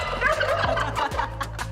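Pardoned Thanksgiving turkeys at Virginia Tech's Gobbler's Rest gobble in a close, loud burst of rapid warbling calls. Several gobbles overlap in quick succession, with no talking.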